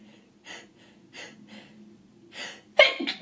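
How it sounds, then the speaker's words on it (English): A person sneezes after a series of short drawn-in breaths building up to it, the sneeze bursting out loud and close near the end. "I'm gonna sneeze."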